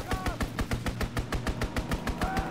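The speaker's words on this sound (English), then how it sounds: "Enemy strafing run incoming." Rhythmic machine gun fire from an enemy aircraft strafing run in Call of Duty WWII, a steady train of evenly spaced, punchy bursts, loud and close, with a faint tonal whine drifting underneath.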